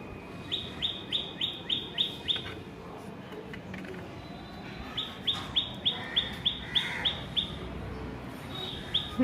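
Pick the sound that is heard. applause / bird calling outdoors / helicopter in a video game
bird calling outdoors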